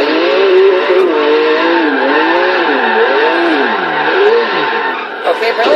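A Lotus in Forza Horizon 3 drifts, its game engine note whining loudly and continuously, with pitch swinging up and down in wavy revs as the car slides through corners.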